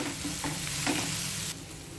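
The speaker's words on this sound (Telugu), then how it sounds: "బెండకాయ ముక్కల్ని 1 నిమిషం ఫ్రై చేసుకున్న తర్వాత కొద్దిగా సాల్ట్ వేసుకోవాలి" Okra and onion pieces frying in a pan give a close, continuous sizzle, with a few soft scraping stirs and a drop in intensity near the end; no one speaks.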